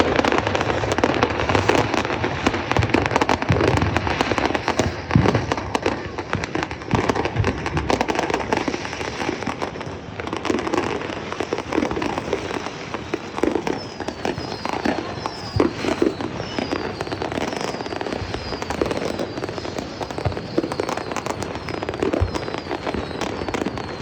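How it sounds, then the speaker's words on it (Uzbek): Dense fireworks and firecrackers burst nonstop across a crowded Berlin street at Alexanderplatz on New Year's Eve, with people firing at each other. Rapid cracks and bangs pile up near and far, and high whistling rockets streak through toward the end. "juda ko'p salyut ko'chada hamma bir-biriga otadi"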